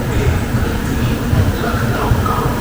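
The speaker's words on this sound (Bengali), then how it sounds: "এই মুহূর্তে আমাদের ট্রেন এসে পৌঁছেছে লখনৌ চারবাগের 4 নম্বর প্ল্যাটফর্মে" A passenger train pulls into platform 4 at Lucknow Charbagh station, a dense steady rumble of wheels and carriages close by with station noise, filling the whole short stretch.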